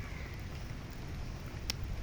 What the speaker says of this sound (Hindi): हल्की हल्की बारिश हो रही है काफ़ी देर से।